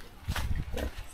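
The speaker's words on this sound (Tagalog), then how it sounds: "Ilang baboy pala dito." A pig on an island in the Philippines, heard as a couple of short, low grunting oinks close by in an outdoor setting.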